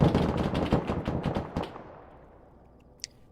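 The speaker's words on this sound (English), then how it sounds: "we heard the 50 cals fire off" .50 cal machine guns fire in a rapid burst during an Arma 3 battle, close and loud for about a second and a half, then fading into a long rumbling tail with one sharp crack near the end.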